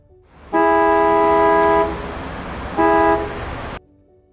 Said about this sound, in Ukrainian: легковий автомобіль